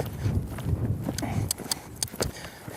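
A young horse cantering on a loose rein, its hooves drumming in a steady rhythm beneath a rider giving spoken cues.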